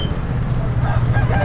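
Country chickens at a bustling market, clucking and calling now and then amid steady crowd murmur and traffic, with voices talking nearby.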